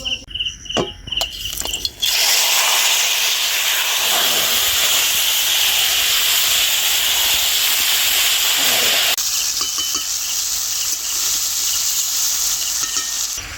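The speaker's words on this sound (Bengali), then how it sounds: "সরষের তেলটা খুব ভালো করে গরম করে নিয়েছি। এইবার এই মাছটা দিয়ে দেবো।" Bombay duck (lote) fish dropped into very hot mustard oil bursts into a loud, dense sizzle that holds steady for several seconds, a close, continuous hiss and crackle with only faint other noise.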